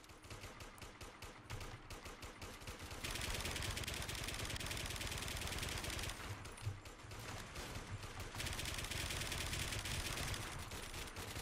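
Continuous automatic gunfire rattles in the first-person shooter Warmode, dense rapid bursts running almost without pause and shifting in tone, loud and up close with no talk.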